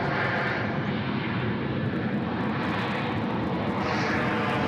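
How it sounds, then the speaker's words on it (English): A Regional Express Boeing 737 on runway 34 right at Sydney Airport gives a steady, loud jet engine roar that holds at an even level throughout. "737 from Regional Express just joining us here on runway 34 right."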